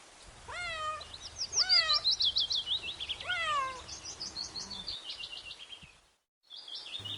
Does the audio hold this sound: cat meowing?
yes